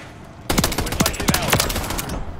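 Battle rifle fire in Call of Duty MW3, a loud burst of rapid shots starting suddenly, with sharp cracks repeating in an uneven stream for about two seconds.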